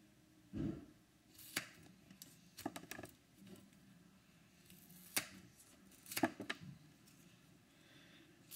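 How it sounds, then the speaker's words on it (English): Scissors snip through a rubber stamp in a handful of sharp, separate straight cuts spaced irregularly, close and quiet with near silence between them. "I take the scissors and I make straight cuts, even in the rounded part."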